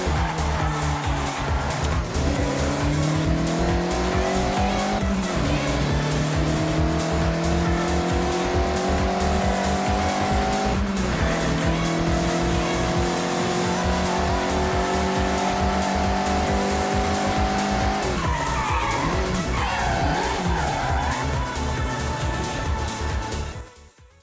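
A Mazda MX-5 driven sideways through corners in Forza Horizon 6, its engine droning loudly with rising and falling pitch as gears change, tires squealing through long drifts before the sound cuts off.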